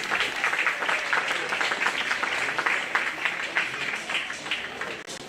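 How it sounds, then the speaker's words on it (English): Audience applause at the Greene County Fair 2024 livestock show, a sustained ripple of clapping from a crowd heard at moderate distance, fairly soft and even for several seconds. "Please give them a round of applause"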